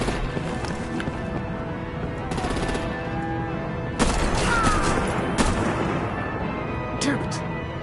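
Gunfire in Batman The Telltale Series: The Enemy Within, rapid bursts of shots and heavier blasts in a chaotic firefight, with shouted voices over the shooting.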